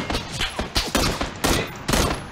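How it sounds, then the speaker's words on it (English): Distant gunfire from the battle royale game PUBG, a series of sharp shots cracking in uneven bursts over about two seconds, loud and without talk. "He's taking shots at me."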